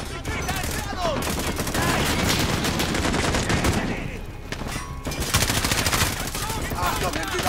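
Heavy gunfire in Call of Duty Modern Warfare, dense fusillades and machine-gun bursts from a gun emplacement hammering almost without pause, easing briefly before starting up again, with voices talking amid the shooting.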